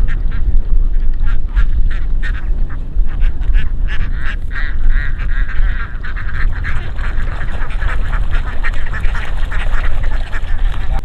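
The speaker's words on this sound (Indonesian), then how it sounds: "Ada bebek-bebek yang mau lewat nih." A group of ducks quacks loudly and repeatedly as they pass close by, the calls overlapping in a busy, continuous chatter over a rough background.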